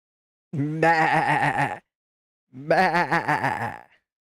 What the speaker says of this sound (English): Is Bruce with the sheep?